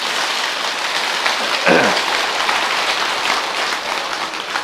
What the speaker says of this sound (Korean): 그 방에까지 들리도록 큰 박수를 한번 쳐주십시오